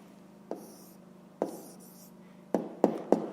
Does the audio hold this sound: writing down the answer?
yes